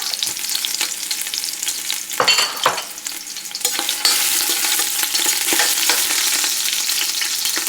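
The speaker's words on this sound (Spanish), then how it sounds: "Después de unos segundos le vamos a agregar la salsa." Red chile salsa for pork pozole rojo hits a hot pot over onions and sizzles loudly, with bursts of stirring and scraping before the frying hiss swells and settles into a constant, close crackle.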